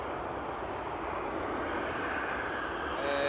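Condor Dreamliner jet taking off at Frankfurt Airport at night, heard as a steady, fairly distant engine roar that holds evenly without speech.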